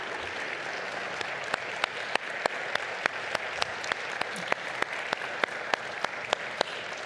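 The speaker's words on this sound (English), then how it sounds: "Let's have another round of applause for all of our graduating students." A commencement audience applauds graduating MFA students at Alma College, with steady massed clapping and sharp individual claps cutting through near the microphone, sustained at even strength throughout.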